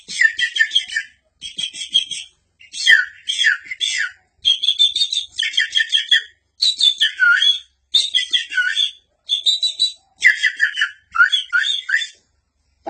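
A man imitates small birds calling by whistling, producing a series of rapid, high twittering trills in short bursts separated by brief pauses, close and clear against silence.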